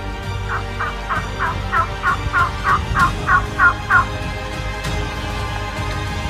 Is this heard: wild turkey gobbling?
yes